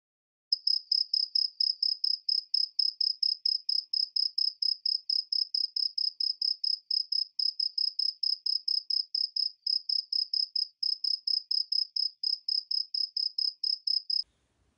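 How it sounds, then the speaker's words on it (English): A cricket chirps steadily in a fast, even rhythm of rapid pulses, clear and alone against silence, stopping abruptly near the end. "my cricket singer chirped again."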